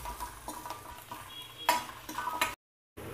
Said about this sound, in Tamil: பூண்டை நல்லா வதக்கிக்கலாம்.